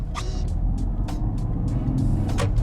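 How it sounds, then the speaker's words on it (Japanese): A Toyota Altezza Gita or second-generation Nissan Primera wagon with a six-cylinder engine and manual transmission pulls away, its quiet, smooth engine a low steady rumble with a few faint clicks and knocks from inside the cabin. "発進します。"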